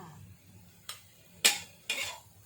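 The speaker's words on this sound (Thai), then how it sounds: "ผัดสายบัวนะคะ ใส่น้ำมันหอยค่ะ" Three sharp metallic scrapes and clanks of a utensil against a pan while stir-frying lotus stems with oyster sauce, spaced about half a second apart, over a faint low background hum.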